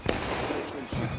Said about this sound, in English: Let that cannon blow.